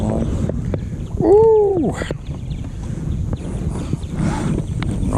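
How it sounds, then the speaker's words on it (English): Wind gusting across open water during kayak bass fishing, a continuous breathy rush buffeting the microphone, with a short whooping shout from a person partway through. "All of a sudden, this wind has picked up."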